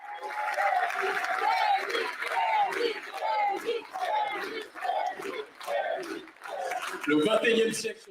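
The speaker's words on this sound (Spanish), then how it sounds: "Una multitud entusiasta aplaude al hombre que se presentaba como el nuevo pensador de la unidad y la independencia africanas." A large enthusiastic crowd at a rally for a Pan-African political figure cheers and chants in a loud, rhythmic, repeating pattern, with voices rising and falling in waves.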